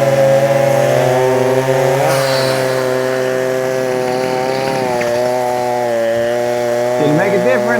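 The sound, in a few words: Stihl MS chainsaw running a cut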